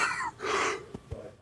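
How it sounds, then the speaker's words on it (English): A woman clears her throat and coughs in a couple of short, soft bursts, close to the microphone in a quiet room. "I got so much coughing."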